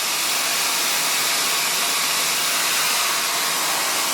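A hair dryer blows on hair during a home styling session, a loud continuous airy roar with a steady hiss, close up and unbroken with no talk.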